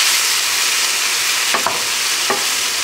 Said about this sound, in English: going to add your shrimp in. And we're going to cook those shrimp down.